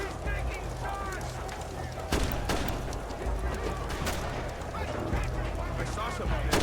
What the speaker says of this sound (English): He's taking shots!